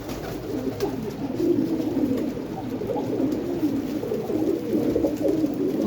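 Pigeons kept for sale coo steadily in low, overlapping murmurs close by, a continuous flock sound with no talk over it.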